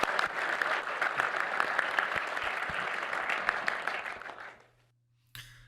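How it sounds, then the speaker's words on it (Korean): Audience applause in a hall for a Financial Services Commission official, led by the president: dense, steady clapping that carries for about four seconds, then trails off into quiet, with a faint low hum underneath and a short noise at the end. "우리 다시 한번 박수 한번 쳐주십시오."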